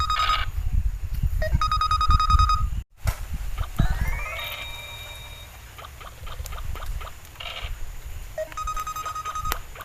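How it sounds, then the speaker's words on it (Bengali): A mobile phone rings again and again with repeated calls, its electronic tone sounding in bursts separated by quieter gaps of room noise, fairly close and clear. "আরে ভাই ফোনটা উঠা, বারবার ফোন করছে।"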